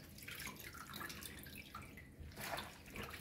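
Callaloo leaves being washed in a kitchen sink in a Jamaican home, with water running and splashing in irregular bursts, fairly quiet and close, with no talking.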